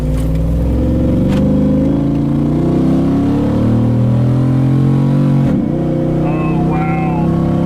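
A 500 HP Hemi V8 in a Jeep JK on a test drive, loud and close, with a continuous engine roar that climbs and swells as it revs and accelerates, then briefly dips before pulling again.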